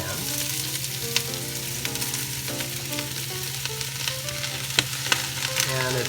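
Onions dropped into hot, lightly smoking olive oil for French onion soup crackle and sizzle loudly and steadily, with occasional sharp pops and stirring clinks, and no talking.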